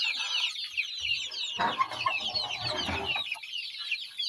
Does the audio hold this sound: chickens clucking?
yes